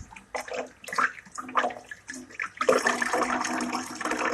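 Raw chicken being rinsed under a running kitchen tap while making chicken salad, with water splashing in uneven bursts that swell into a steady, louder stream partway through.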